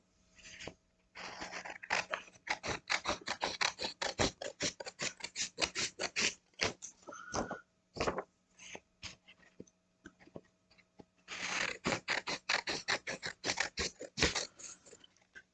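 Scissors trimming sublimation paper, a rapid run of crisp snipping cuts repeated in two bursts with a short pause between, close and clear with no talk.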